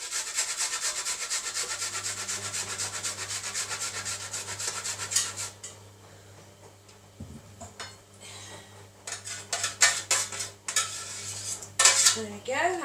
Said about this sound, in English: I'm just going to quickly grate in some ginger